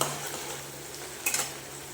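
Onions frying in a pan for chicken korma, with a steady low sizzle and a brief burst of stirring scrapes near the end, close and moderately quiet.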